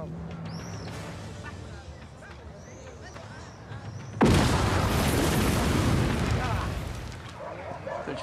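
An unexploded bomb in a small park in Baghdad is set off by soldiers in a war film, a sudden loud blast that rolls into a long roaring rumble after a stretch of quieter ambient sound.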